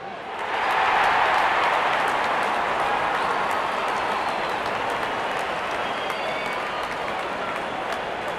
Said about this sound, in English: And the crowd cheering in joy.